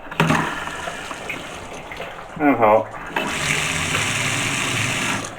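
Water from a newly connected temporary kitchen tap runs into an old sink as a steady, close gush that starts, briefly changes as a voice speaks, then continues evenly to the end.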